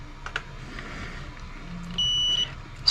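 A multimeter's continuity buzzer, set to resistance while testing an AC thermostat's wiring, gives one steady electronic beep of about half a second amid faint handling noise, followed by a short chirp.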